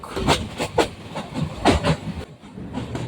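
The Jamalpur Express train running on tracks between Dhaka and Jamalpur, Bangladesh, with rhythmic clacking bursts and a rumbling roar that rises and falls, heard from close by.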